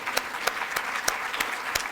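Audience applause at an environmental awards ceremony, a steady mid-distance wash of clapping with several sharper individual claps standing out at regular intervals throughout, no voices over it.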